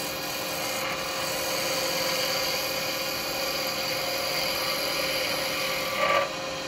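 A roughing gouge shear-cuts a wood blank spinning on a lathe, giving a steady, dense, close hissing whir that holds evenly throughout, with a brief louder swell near the end.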